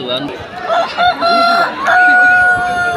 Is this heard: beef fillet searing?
no